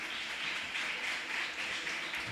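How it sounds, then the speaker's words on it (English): A theatre audience applauds the special jury award at a 2019 film prize ceremony, a steady, dense wash of clapping that holds at an even level throughout without a break. "A big round of applause,"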